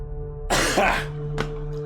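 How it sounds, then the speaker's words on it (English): A man coughs hard once and then once more, briefly, close to the microphone, while steady electronic tones from a horror video game hum underneath. "As soon as I say hello here, instant coughs"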